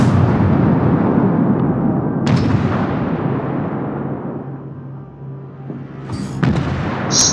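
Warship naval guns in World of Warships let off a huge booming salvo that rumbles and slowly fades, with sharper cracks of further shots near the end, loud and close.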